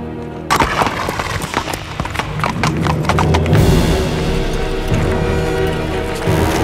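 Horse hooves clip-clop steadily on hard ground in an ancient Roman setting, close and loud, with a brief whinny and busy street commotion around them.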